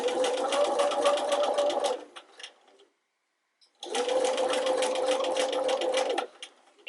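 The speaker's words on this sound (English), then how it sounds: "It's really important to go slowly when you're narrow hemming a curve." Sewing machine with a narrow hemmer foot stitching a curved narrow hem, running in two steady bursts of about two seconds each, separated by a silent pause, close and alone with no talking.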